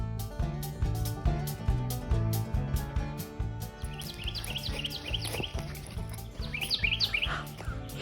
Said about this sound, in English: Hear the birds, y'all?